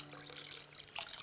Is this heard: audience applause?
no